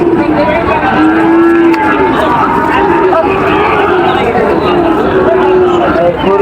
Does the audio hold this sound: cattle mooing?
yes